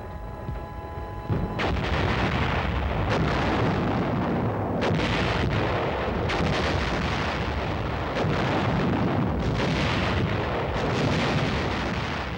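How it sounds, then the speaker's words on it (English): Field artillery guns fire a barrage in support of an infantry company, heavy booming shots following one another every second or two with rumbling echoes, loud and continuous with no speech. "Charlie Company needs artillery support and gets it."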